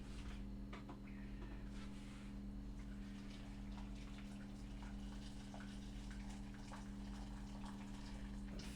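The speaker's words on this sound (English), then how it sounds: "Fill that with water." Water runs steadily from a tap into a pot of potatoes in a kitchen, a faint, continuous gushing over a low constant hum, with no pauses.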